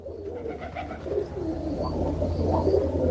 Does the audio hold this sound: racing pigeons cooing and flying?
yes